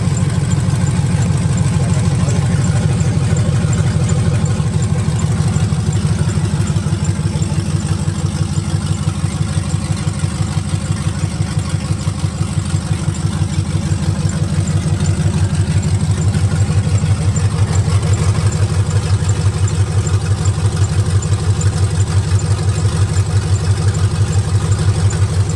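An LS-swapped V8 runs on bare headers with no exhaust fitted, a loud, steady, throbbing idle that stays close and unbroken throughout.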